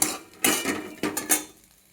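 A spoon stirs potatoes and crushed peanut powder in a pan of oil, giving four or five quick metallic clinks and scrapes close by, then fading to quiet.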